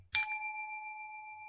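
A single bright bell ding rings out once as a cue in a Spanish lesson, its clear tone sustaining and slowly fading, alone with no talk.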